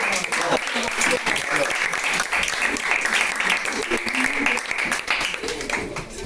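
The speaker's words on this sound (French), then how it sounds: "Beaucoup d'acclamations pour le président." A crowd at an event honouring a president breaks into sustained applause and cheering, loud dense clapping running throughout with voices mixed in.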